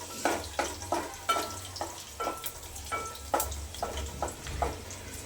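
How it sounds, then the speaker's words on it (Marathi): Garlic sautés in oil in a pan, a soft steady sizzle with a series of sharp scraping and stirring strokes recurring roughly every half second, close and fairly loud with no talk. "लसूण आपल्याला छान असं तेलामध्ये एक दीड मिनिटासाठी किंवा एका मिनिटासाठी छान परतून घ्यायचं आहे"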